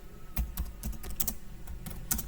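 Keys on a computer keyboard clatter in quick, uneven clicks and taps, close and fairly quiet, with no talking.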